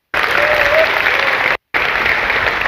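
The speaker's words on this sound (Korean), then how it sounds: "박수 한번 주시면 감사드리겠습니다" A seminar audience in a large hall applauds a blockchain mainnet lecture speaker, a loud, even wash of clapping broken by one brief cut of silence before resuming.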